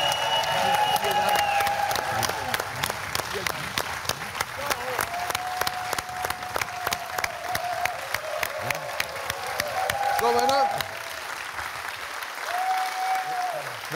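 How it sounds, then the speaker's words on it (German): A studio audience at a TV quiz show claps steadily and loudly for a departing guest, sustained crowd applause throughout, with a host's voice speaking over it near the end. "Lieber Dieter Hallervorden, das ist dein Applaus."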